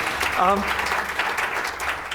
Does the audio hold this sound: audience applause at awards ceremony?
yes